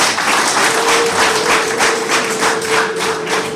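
Steady, dense applause from an audience at a parish feast-day celebration and church blessing in Rwanda, loud and continuous throughout with no voices over it.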